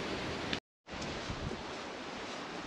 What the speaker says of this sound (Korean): 풍력발전기 나이대 소리가 이제 잘 안 들리고 바람 소리입니다.